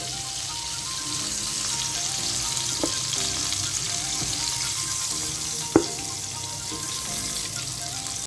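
Chicken pieces coated in masala frying in hot oil, a steady close sizzle and bubbling throughout, with a couple of brief clinks from a utensil partway through.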